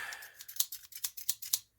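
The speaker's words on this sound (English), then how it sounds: "A good pair of scissors." A good pair of scissors cuts through a hospital blanket, giving about eight quick, crisp snips in an uneven rhythm. Each snip is close and fairly soft in a quiet room, and no one speaks.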